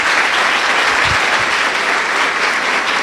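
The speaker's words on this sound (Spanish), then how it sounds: "y a Claudia les pido por favor un aplauso." Applause at a public talk on city topics, a steady loud wash of clapping from an audience that fills the whole moment without a break.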